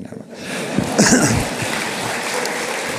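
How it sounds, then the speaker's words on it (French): A crowd at a New Year's address in Divonne-les-Bains, France breaks into applause after a brief pause, a dense steady clatter of clapping that holds at moderate level to the end. "C'est maintenant qu'il faut applaudir."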